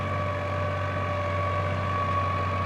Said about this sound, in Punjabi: ਟਰੈਕਟਰ ਚੱਲਦਾ ਜੀ ਆ ਦੇਖੋ ਜੀ